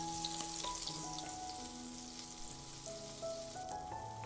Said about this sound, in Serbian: I pripremljene tikvice spuštamo na ulje i pržimo po 3 minuta sa obe strane.